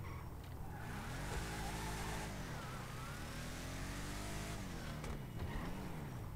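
A video game vehicle's engine revs up and down in rising and falling sweeps while it pulls wheelies, steady and fairly close with no talk over it.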